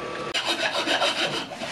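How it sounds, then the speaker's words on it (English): A file scrapes grooves into a leather piece for a Viking sword scabbard suspension, a steady, close rasping stroke texture running throughout, with a brief pause near the start. "Filed out the grooves where the lacing is going to go"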